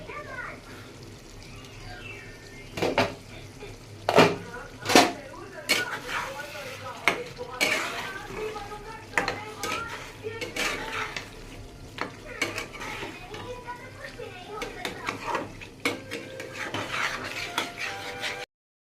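A spice paste fries in a pan with a moderate sizzle while a spoon stirs and scrapes against the metal in irregular bursts, some louder knocks standing out.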